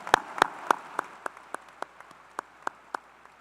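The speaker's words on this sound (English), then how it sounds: "Join me in a round of applause for these special guests." Sparse, distinct claps ring out one after another at a university ring ceremony, fairly close and evenly spaced, with a few louder hits at the start before thinning to single claps and no voices.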